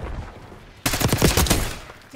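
A submachine gun fires in Black Ops 6: after a brief lull, one close, loud burst of rapid shots rattles out for about a second and then tapers off.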